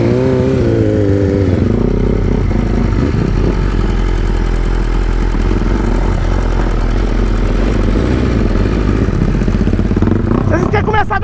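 Two motorcycles, a Honda FAN 205cc and a START 190, revving and idling side by side on a street, engines loud and close throughout with rising throttle bursts.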